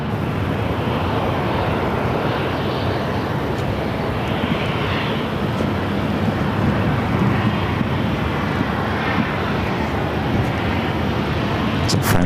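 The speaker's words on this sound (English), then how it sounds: "Next arrival is United Airlines Flight 1847 coming in from Newark" A United Airlines Boeing 737-900ER arriving from Newark at Phoenix airport gives a steady, moderately loud engine rumble that holds evenly throughout, with no voices over it.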